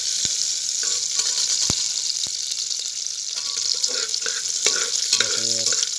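Onion and tomato sizzle in a pan for chicken biryani, a loud continuous crackling hiss broken by a few sharp stirring clicks and scrapes, with no talking.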